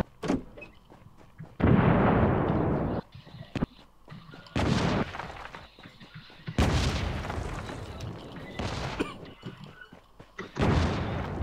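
Bombing-zone explosions in the battle royale game Rules of Survival strike as four heavy, loud blasts at irregular intervals, each followed by a rolling rumble that tapers into quieter gaps.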